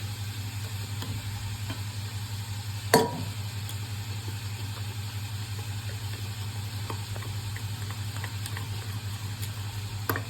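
Dhirde batter of soaked besan with turmeric, salt and coriander is whisked in a bowl. A faint, steady stirring scrape runs under a low background hum, with one sharp knock early on.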